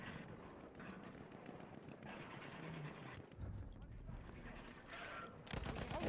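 Gunfire from a Battlefield video game, including pistol shots, crackles as a continuous busy battle mix with scattered shots and louder bursts near the end, under someone talking.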